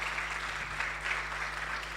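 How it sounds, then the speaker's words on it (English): Audience applause for someone speaker, Dr. Rejoice, at a Girls in ICT event, heard as a steady wash of clapping throughout with a low hum underneath and no voices. "Give her some clap. She deserves that."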